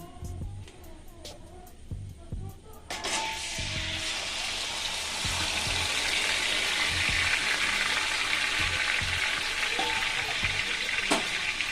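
Yogurt-marinated chicken hitting hot oil in a pan: after a few quiet scrapes the sizzle bursts in loudly and holds as a dense, steady frying hiss, with a sharp clatter near the end.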